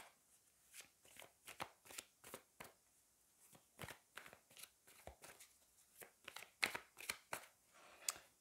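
Tarot cards shuffled by hand in a rapid, irregular run of crisp riffles and slaps, close and fairly quiet, with no talking.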